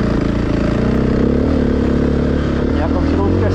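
A KTM dirt bike engine runs on a snowy track with a steady, close, throaty drone that holds level for the whole few seconds without a clear rev; a voice may be faintly present.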